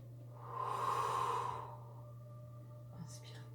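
One long, soft breath is pushed out during a standing fitness breathing exercise, a breathy rush that swells and fades over about a second, heard close and alone over a low steady hum, with a faint trailing sound after it.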